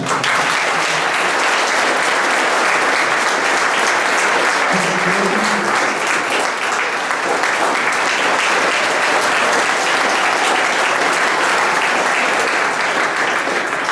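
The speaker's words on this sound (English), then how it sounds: "Coach Casasola, round of applause" A crowd at a track and field awards ceremony applauds Coach Casasola with loud, thick, unbroken clapping from many hands that holds steady for well over ten seconds, with no voices on top.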